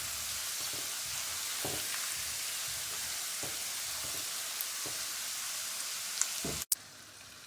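Chopped onions cook in a pan over a medium flame, giving a steady, even sizzle with occasional soft stirring taps, fairly close and unbroken throughout.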